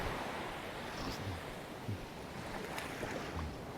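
Waves washing on the shore at a beach near a homestay in early morning, a steady rushing wash with soft surges and some wind buffeting the microphone, no talking.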